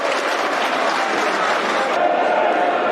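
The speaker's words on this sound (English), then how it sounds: "Polite applause for that effort." Polite applause from a football crowd at a Millwall versus Nottingham Forest match, a steady wash of scattered clapping and crowd noise at even level throughout, thinning slightly toward the end.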